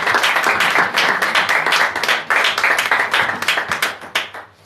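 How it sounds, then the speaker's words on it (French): A church congregation applauds together during a Sunday worship service, a dense, continuous rhythmic clapping that holds steady and then thins out at the very end. "on acclame pour la gloire du Seigneur"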